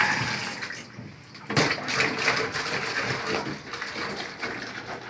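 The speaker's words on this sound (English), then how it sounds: "Very hot water." Very hot water runs steadily from a tap during wound washing after fasciotomy repair surgery, a continuous close splashing hiss with small shifts as the flow is disrupted.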